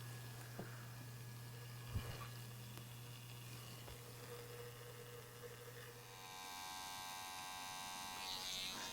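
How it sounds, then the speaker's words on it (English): Electric hair clipper cutting hair during a comb over haircut with a hard part, a close, steady buzzing hum with small changes in pitch as the blade is adjusted and moves through the hair. "closing the clipper blade down halfway, and then we're going to make another revolution going back, closing it all the way"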